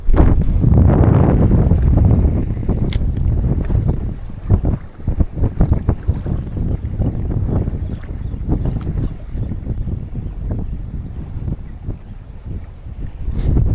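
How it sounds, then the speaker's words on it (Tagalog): Strong wind gusting over a boat at sea, a loud steady rush buffeting the microphone with rumbling low-end bursts and faint clatter throughout, and no speech. "Mahangin lang, hindi rin mainit."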